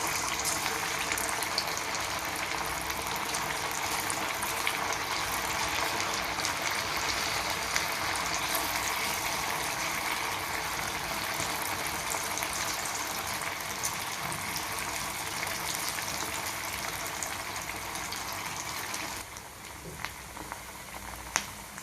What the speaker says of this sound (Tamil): நம்ம வெட்டி வச்சுருக்க சேப்பங்கிழங்க அதில் போட்டுக்கலாம்